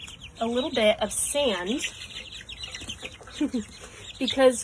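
Chickens and chicks cluck and chirp nearby in several short bursts, while a person talks intermittently among them.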